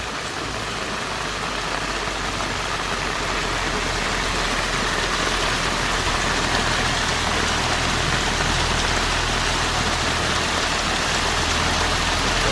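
Heavy rain pours down steadily onto a rain-damaged road as runoff water flows down from higher ground, a loud, unbroken hiss with a faint low hum beneath and no voices.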